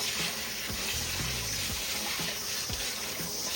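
Water runs steadily from a tap as freshly picked dandelions are rinsed in a sink, a continuous close hiss and splash with faint low clunks underneath.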